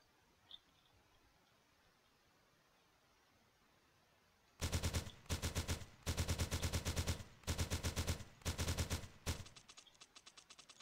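Quiet lull, then loud bursts of rapid automatic rifle fire in a video game, in several rhythmic volleys, close and punchy, ending in a few scattered shots.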